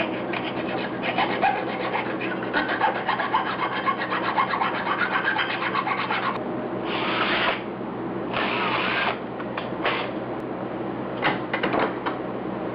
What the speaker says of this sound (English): I'm using the Dremel to create a small notch